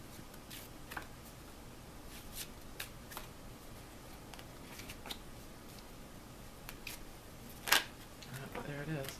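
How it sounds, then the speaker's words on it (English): Tarot cards are shuffled in soft, irregular riffles and flicks, close and quiet, with one sharper slap of cards near the end and a person talking in between. "shuffle up for Cancer for February 2012"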